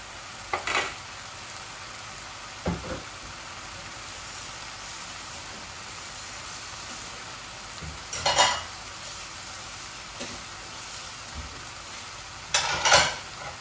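Tomatoes fry in spiced oil in a pan while cooking rui fish dopiyaza, giving a steady, soft sizzle with a few sharp scraping stir strokes spaced several seconds apart.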